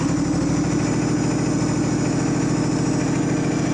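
A Massey Ferguson (Simplicity) riding mower engine runs at a steady idle, a loud, close, even mechanical drone with a rapid regular pulse throughout.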